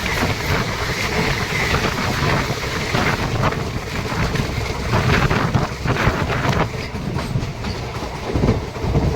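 The Sahid Express passenger train crossing the Mayurakshi river bridge near Sainthia, heard from on board: a loud, continuous rumble with rhythmic clickety-clack of wheels and wind buffeting the microphone, without voices.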